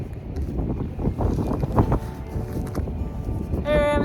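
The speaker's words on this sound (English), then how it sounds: "super windy." Strong wind gusting across the Pacific Crest Trail between the Tehachapi road crossings, a steady roar of buffeting against the microphone, with a person speaking through it and a brief tonal whine near the end.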